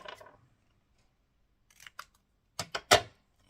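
Scissors snipping paper during a craft project, with a few brief, crisp cuts in quick succession after a quieter rustle, close and fairly quiet.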